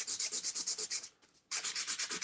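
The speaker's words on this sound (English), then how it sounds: "just sanding that back." Paper card is sanded back by hand for a Christmas card, with quick rhythmic scratchy strokes in a steady run, a short pause, then another brisk series, all fairly quiet and close.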